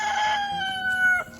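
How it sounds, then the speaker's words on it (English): Chickens on a homestead let out a brief, close, drawn-out vocal call with a tonal, crowing quality, ending abruptly after about a second. "all those chickens."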